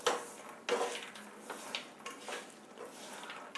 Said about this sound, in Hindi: ये हमने जो भुनी मूंगफली है ये इसमें डाल देंगे। और इनको चलाएंगे